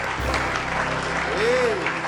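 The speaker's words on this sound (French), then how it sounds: "applaudissements pour Anyama, s'il vous plaît." Studio audience applause from a French-language radio or TV game show fills the clip with steady clapping, while a host's voice speaks over it.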